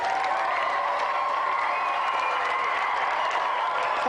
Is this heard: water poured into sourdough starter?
no